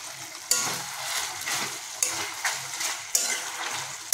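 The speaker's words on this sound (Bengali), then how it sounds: "তাই এটাকে আরও খুন্তিতে কিছুক্ষণ নাড়ি" Chicken stew being stirred in a kadai with a spatula, the scraping strokes coming in a steady repeating rhythm over a soft simmering sizzle. The sound is close and clear, with no voices.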